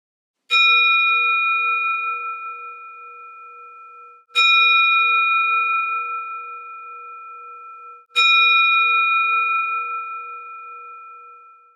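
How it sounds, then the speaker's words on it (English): Three meditation bells chime alone in quiet, each struck once at an even, unhurried pace, ringing out clear and bright and then slowly fading before the next strike. "In a moment, you'll hear the chime of 3 meditation bells."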